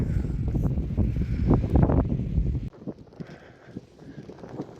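Heavy wind buffets a nearby camera microphone outdoors by the water with loud, rumbling gusts that suddenly drop to a quieter, breezy hiss.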